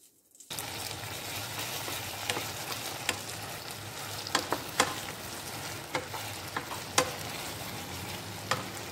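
Vegetables stir-fry in hot oil for chilli chicken, a steady close sizzle after a brief quiet start, punctuated by sharp clacks and scrapes of a spatula against the pan.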